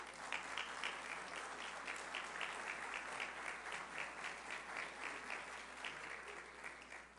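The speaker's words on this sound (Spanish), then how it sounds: "esos aplausos generosos de vosotros" Generous applause from the audience at a solemn session in Guayaquil, a steady dense clapping that holds evenly throughout without talk.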